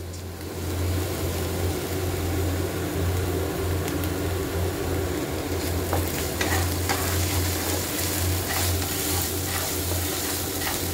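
Onion and garlic paste sizzles steadily in a pan over low gas, a close, continuous frying hiss broken by occasional stirring clicks and scrapes, with a low hum running underneath.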